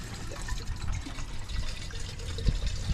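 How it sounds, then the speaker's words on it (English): Water runs and gurgles steadily while a race car's leaking cooling system is refilled, a close, continuous liquid trickle over low background rumble. "we're just filling the system back up now so we can test where the leaks are"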